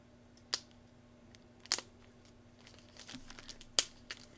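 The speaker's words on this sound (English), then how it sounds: "I'm going to take the sticker off first" A sticker is peeled off the sleeve of a vinyl LP record, heard as a few short, sharp crinkling and tearing sounds spaced apart over a quiet background with a faint hum.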